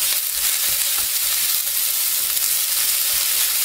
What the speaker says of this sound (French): Et je vais verser les oignons, l'échalote et l'ail. Voilà, je remue un petit peu.